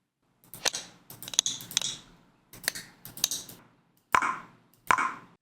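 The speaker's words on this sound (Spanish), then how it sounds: "Puede ser como un clic." Sharp editing click effects snap out in quick, separate bursts: a run of short clicks, a second cluster, then two louder, crisper single clicks, all dry and isolated against silence.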